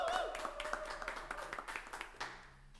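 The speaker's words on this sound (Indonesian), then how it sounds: "Tepuk tangan." Studio audience applause for two guests arriving on an Indonesian film talk show, a short burst of clapping that is fairly faint and thins out over about three seconds.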